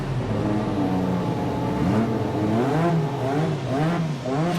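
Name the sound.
Honda Williams FW11 Formula One car engine running at Goodwood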